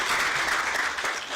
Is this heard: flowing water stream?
no